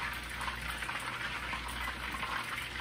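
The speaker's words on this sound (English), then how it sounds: "We got sizzle, folks." Pieces of tilapia sear in a hot pan for a Cajun-style dish, giving off a steady, dense hiss of sizzling oil with soft crackles, close and continuous throughout, with no talking.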